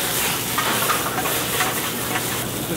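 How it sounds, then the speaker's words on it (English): A steady, bright sizzle of whole garlic cloves and capers frying in a hot pan, constant and fairly loud, with no voices. "We like those to sizzle a little bit."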